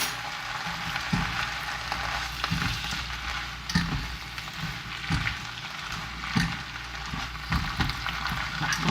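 Potherb mustard stir-fries with black bean dace in a wok, giving a steady close sizzle broken by repeated scraping stirs of the spatula.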